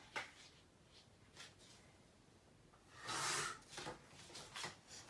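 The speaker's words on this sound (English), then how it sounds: "So I'm just going to trim the longer end down a little bit." Paper being trimmed from the longer end of a pocket insert for a handmade mini album: faint, quiet rasping cuts, with a louder cluster of scraping strokes near the end.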